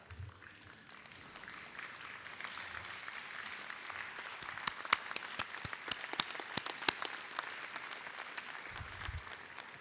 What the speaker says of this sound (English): Stand up and give them a clap.